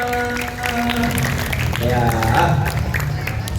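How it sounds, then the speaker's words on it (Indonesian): An audience claps for a sixth-grade girl about to perform in a school storytelling contest, a steady patter of applause running under a voice and some background tones. "Tepuk tangan buat Kak Irfana."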